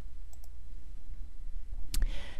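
A single sharp computer mouse click, close and crisp, near the end of a quiet stretch of low room noise.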